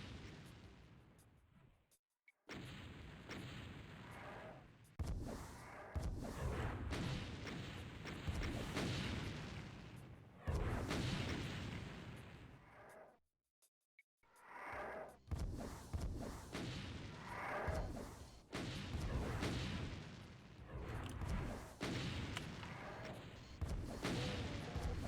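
Rocket launcher explosions from the Doom mod Hadephobia, with dense, loud booming blasts and gunfire roaring almost continuously, broken by two brief silent gaps.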